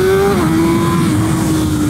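A BMW M1000RR superbike accelerates hard, its loud engine whine holding steady, then dropping briefly at a quick gear shift before climbing again, heard up close over rushing wind with no talking.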